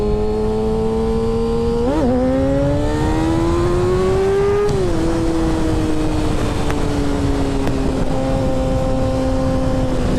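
A 600cc-class motorcycle roars loud and close as it accelerates hard, engine pitch climbing through several gear shifts with brief dips between them, alone without any talk.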